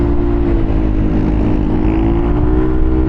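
A Yamaha Aerox 155 scooter's aftermarket exhaust drones steadily up close, deep and bassy, holding a low rumbling note with a slight rise in pitch.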